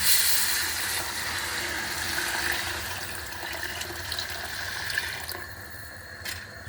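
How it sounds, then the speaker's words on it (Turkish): Water pours steadily onto coarse bulgur in a pot, a continuous splashing, filling rush heard up close with no talking, easing slightly near the end. "Suyunu veriyorum"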